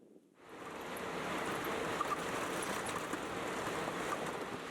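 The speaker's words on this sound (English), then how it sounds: "It's extremely windy." Strong wind in a dry riverbed roars steadily into the microphone, a broad rushing noise that swells in after a quiet start and stays constant.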